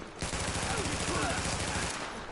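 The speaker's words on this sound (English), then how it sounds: "He's literally shooting a shotgun at somebody that's way over there." Shotgun gunfire in The Division video game: a dense, sustained burst of rapid gunshots with rhythmic low thumps, loud and continuous for nearly two seconds before stopping, with faint voices in the background.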